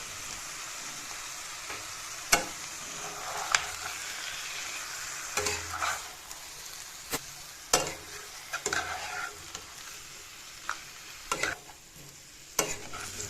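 Chicken fries with onion and garlic in a wok while being stirred for a Chicken Maharani dish: a soft, steady sizzle broken by irregular scraping and clinking stir strokes, close but fairly quiet.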